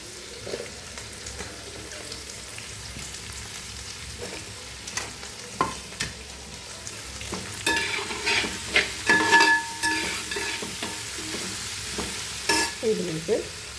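Chili masala with turmeric and salt sautés in a pan for a Kerala country chicken curry: a low sizzle under repeated scraping strokes of a spoon that grow busier and louder partway through, with no speech.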